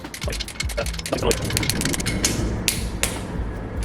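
Bolts on a Mazda RX-8 13B rotary engine are tightened one by one, giving close, repeated ratchet clicks and metallic creaks in quick irregular bursts, with a few sharper clacks.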